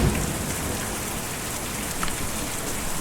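Steady rain falls on surfaces in the video game Kentucky Route Zero, a dense and even patter that runs the whole time at moderate volume, with no voices.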